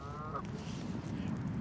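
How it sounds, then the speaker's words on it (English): Geese honk by a pond, a brief clear call near the start over steady outdoor background noise with birds chattering faintly behind it. "One of these geese, or all of them maybe, flying above your house."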